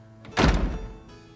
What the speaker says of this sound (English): She slams the door a lot on us.